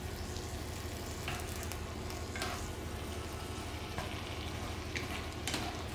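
Choy sum greens stir-frying in a hot pan with octopus noodles, a steady close sizzle and crackle throughout, with occasional scrapes and tosses of the spatula.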